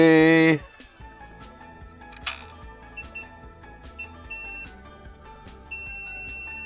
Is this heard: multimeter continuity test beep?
yes